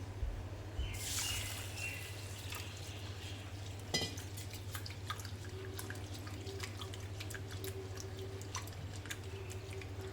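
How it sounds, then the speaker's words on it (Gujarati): Urad dal is washed by hand in a bowl of water, giving soft, close dripping, sloshing and trickling sounds with a few brief splashes, all fairly quiet in a still indoor kitchen. "સારી રીતે ધોઈ અને પાણી કાઢી લઈશું।"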